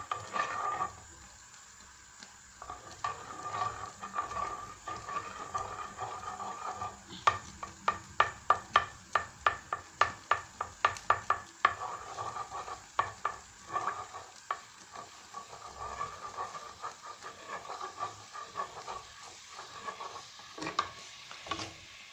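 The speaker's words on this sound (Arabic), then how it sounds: "كنقليو اللحم تاعنا والبصله والثوم" Ground meat, onion and garlic frying in a pan for eastern Algerian kefta. A steady close sizzle runs under a burst of rapid, rhythmic spoon scrapes against the pan, which then settles back into softer stirring.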